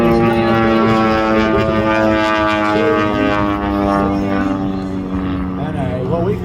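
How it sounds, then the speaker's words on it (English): Pitts S-1 aerobatic propeller biplane at an airshow, its engine a loud, steady droning tone with shifting pitch as it passes near, with a commentator talking over it throughout. "Anthony Oshinuga flying the pitch S1. Here he comes from your left."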